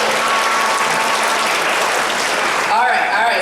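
Audience at a stand-up comedy show for mental health applauds loudly and steadily for about three seconds, a dense wash of clapping with a voice cutting in near the end.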